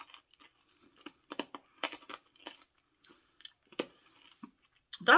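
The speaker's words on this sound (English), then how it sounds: "Okay, I'm chewing it," Crunchy mango hard candy being chewed from Pakistan, close and intimate, irregular sharp cracking crunches and snaps in short bursts with quiet gaps, ending in a louder crunch.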